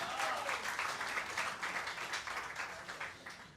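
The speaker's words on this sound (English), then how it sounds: "Big round of applause." An audience at a tribute evening at New York's Metropolitan Room breaks into sustained applause, a dense wash of clapping that stays strong and slowly eases toward the end.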